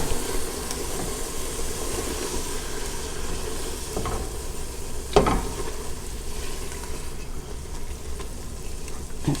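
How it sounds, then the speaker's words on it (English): Garlic sizzles in a pot while a low-carb gumbo is being made, a steady close frying hiss with a few light utensil knocks and one sharper clatter partway through. "Now I'm going to go ahead and add in the garlic."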